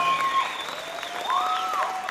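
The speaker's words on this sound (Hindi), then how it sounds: "मैं चाहूंगा जोरदार तालियां पहले हम उनके लिए बजाएं" An audience at an HSBC 15th anniversary diamond jubilee event claps, with high whistles and cheering sliding over a steady wash of moderately loud applause.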